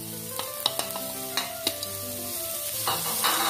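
Onions frying with chilli powder in a pan, a steady close sizzle with several sharp clinks of a utensil stirring against the vessel, and no talk.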